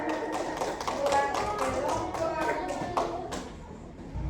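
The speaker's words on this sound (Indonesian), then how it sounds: "Iya, tepuk tangan." Children clapping in a classroom, a series of sharp, uneven hand claps repeating quickly at close range, with voices underneath.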